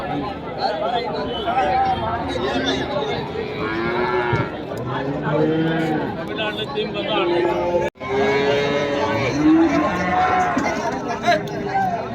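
Holstein Friesian calves moo loudly and repeatedly at close range on a farm, with people chatting continuously underneath and around the calls.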